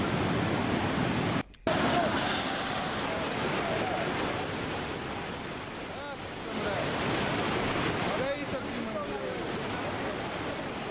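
Floodwater rushes after a cloudburst in the Himachal Pradesh hills, a steady, loud roar of flowing water that fills the whole stretch, with a brief dropout and a reporter speaking over it.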